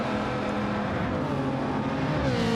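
A race car engine in a racing video game holds a steady, loud high-pitched whine at full throttle down a straight, with no talking.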